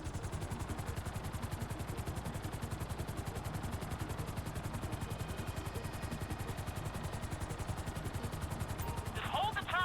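A helicopter hovers in the Grand Theft Auto V video game, giving a loud, steady, rapid rotor chop that runs unbroken throughout, with a brief sharp burst of noise near the end.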